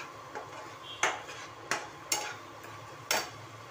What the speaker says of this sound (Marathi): इकडे हा कांदा अजून लाल झालेला नाही आहे. ब्राऊन कलर येईपर्यंत चांगला फ्राय होऊन द्यायचा.